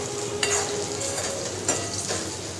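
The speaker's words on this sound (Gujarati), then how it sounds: "આપણે અત્યારે કારેલાનું શાક વઘાર દીધું છે" Bitter gourd sizzles steadily in hot oil, with a few close scraping stirs of a spoon against the pan.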